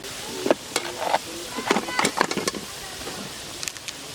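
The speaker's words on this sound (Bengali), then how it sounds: "পেঁয়াজগুলো আমি তেলের মধ্যে ছেড়ে দিচ্ছি" Onions dropped into hot oil, a few bursts of crackling sizzle and clattering that settle into a quieter fry, with someone speaking alongside.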